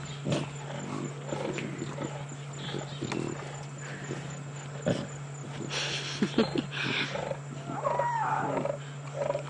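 A lioness snarls and scuffles with her cubs at sunset on a safari drive, giving rough growls and bursts of struggle over a steady vehicle hum, with scattered thuds and brief faint voices.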